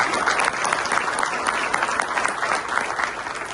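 An audience at a mentoring event applauding, a dense, steady round of clapping from many hands that holds at full strength throughout.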